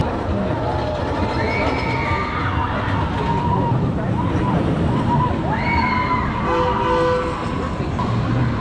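A Six Flags over Georgia amusement park train rumbles steadily, with rising whistle-like tones and a horn sounding over the noise, and voices faintly beneath.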